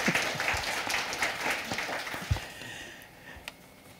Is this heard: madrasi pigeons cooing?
no